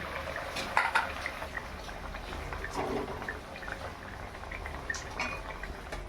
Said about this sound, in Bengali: আলু সেদ্ধ হয়ে গেছে এবার মাছগুলো দিয়ে দেবো